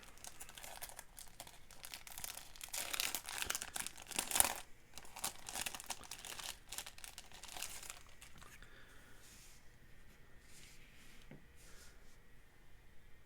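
Paper crinkling and rustling while unboxing an IJN Kirishima Victory at Sea model kit, close and fairly soft, with dense crackly handling for the first several seconds and a brief louder crunch before it tapers to quieter rustles.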